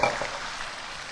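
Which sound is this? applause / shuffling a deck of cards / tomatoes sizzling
tomatoes sizzling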